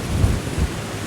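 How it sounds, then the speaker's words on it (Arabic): Thunder rumbles heavily over a steady wash of storm noise, with two deep low booms standing out in a continuous roar, loud and close, no voices. "واو دي عاصفة"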